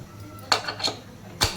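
A metal lid goes onto a pressure cooker of rice pulao, giving three quiet, close clinks and clatters spaced over a second, with no talk.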